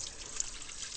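A garden hose fed from a river runs continuously, giving a steady, soft wash of flowing water with an even trickling hiss throughout and no talk.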